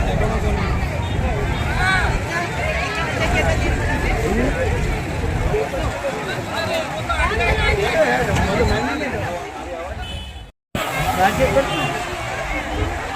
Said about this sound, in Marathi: एवढी गर्दी आहे रस्त्याला, बापरे